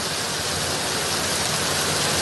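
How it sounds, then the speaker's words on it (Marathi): Rain falling over Mumbai and Thane, a steady dense hiss of drops with a faint low traffic rumble beneath, continuous and even throughout. "मात्र अजूनही काही ठिकाणी रिमझिम पाऊस सुरूच आहे."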